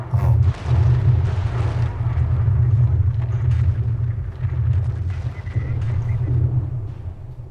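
Artillery fire from the World War II strategy game Company of Heroes: a steady, heavy low rumble of distant shelling and explosions that rolls on through the whole stretch, with a brief dip early on and no voices over it.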